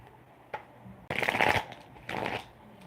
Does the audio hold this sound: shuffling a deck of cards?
yes